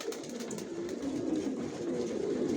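Racer pigeons in a loft coo softly and continuously, a low warbling murmur close by with no voices.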